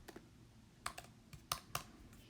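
Someone types one-handed on a computer keyboard, a quiet, irregular series of sharp key clicks and taps, some spaced apart and a few clustered, close by with no talking.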